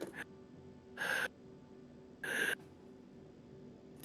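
A voice mimics a panting orc with three sharp, breathy gasps at steady intervals, close and quiet, alone between them.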